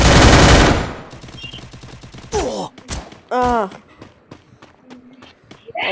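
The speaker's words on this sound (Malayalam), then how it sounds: "നമുക്ക് വെടിക്കിട്ട് അടിക്കാം" Free Fire video game gunfire: a loud burst of rapid automatic shots right at the start, then quieter scattered game sounds and footsteps beneath a person talking.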